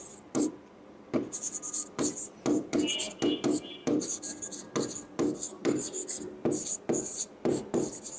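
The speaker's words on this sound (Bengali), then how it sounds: "এখানে লিখি" Pen or chalk writing by hand in a classroom lesson, quick repeated scratchy strokes in short bursts with brief pauses, close and clear, with a voice speaking softly at times.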